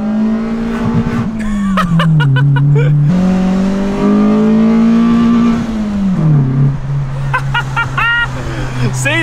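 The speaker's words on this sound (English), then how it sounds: "Limiter on this car as well sounds immaculate" A Mitsubishi Lancer's 4G15 engine revs hard and bounces off the rev limiter repeatedly, loud and close, with rising and falling engine pitch throughout.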